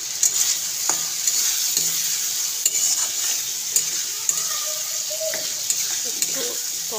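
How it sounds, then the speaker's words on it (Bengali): Cumin and garlic sauté in a frying pan for an egg and potato curry, giving a steady close sizzle broken by occasional light spatula scrapes and taps. "জিরে আর রসুন অল্প পরিমাণে দিয়ে একটু ভালো করে আমি এটাকে কষিয়ে নেব।"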